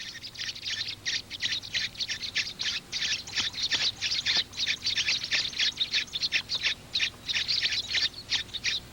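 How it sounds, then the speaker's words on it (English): A skylark pours out a continuous, rapid song of high twittering trills and chirps, bright and fairly close, with no pauses or voices. "Although the skylark's song boldly advertises its presence in the sky"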